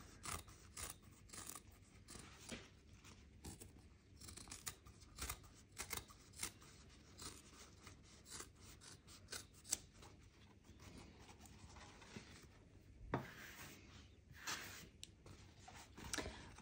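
Scissors snip away at the pocket corners and seam allowance of a sewn parka: a quiet, irregular series of short cuts and clicks at close range, with no voices heard.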